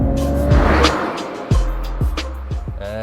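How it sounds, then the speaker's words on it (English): A Mercedes-AMG CLE53 coupe launches hard in a 0 to 60 mph acceleration run, its engine roaring loudly up through the revs with several quick, sharp shift breaks between rising pulls. "0 to 60 test, let's go."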